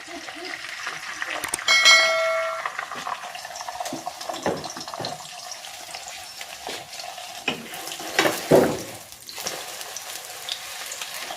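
Salted beaten eggs cooking in oil in a pan, giving a soft sizzle with scattered utensil clinks and scraping, and a louder clatter around eight seconds.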